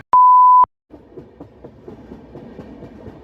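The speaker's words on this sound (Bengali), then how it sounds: "রাতের অন্ধকার চিরে ছুটে চলেছে ট্রেনটা।" A train runs through the night as a sound effect: a sharp electronic beep, a short pause, then a steady close rattle and clatter of wagons over the rails.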